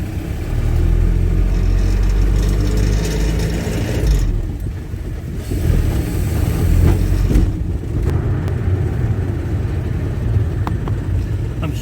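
A restored classic Mini, nicknamed Kermit, takes its first drive after a new wiring loom was fitted. The engine revs and pulls loudly and close, rising and easing through gear changes.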